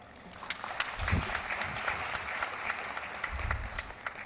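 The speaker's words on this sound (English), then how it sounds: "A round of applause for her" An audience at a ministerial round table forum applauds with steady, moderately loud clapping that carries on for several seconds, with a few sharper individual claps standing out.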